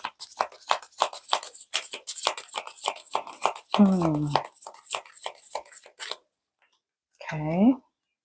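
Rapid papery riffling and flicking of tarot cards being shuffled, a dense run of quick crisp bursts, with short voiced sounds breaking in partway and again near the end.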